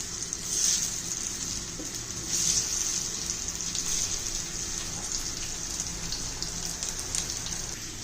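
Coriander vadi fry in hot oil, giving a continuous close hiss and crackle with fine popping bubbles, swelling slightly in a couple of spots and otherwise holding steady and moderately loud, without any speech.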